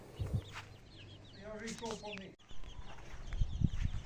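Bantam chickens cluck and chatter nearby in short bursts, with some rustling and low background noise around them in a yard.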